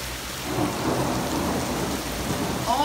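Heavy rain pours steadily during a night thunderstorm while a low rolling rumble of thunder swells underneath, dense and continuous with no voices.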